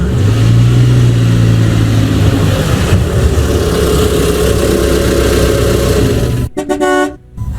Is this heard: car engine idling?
yes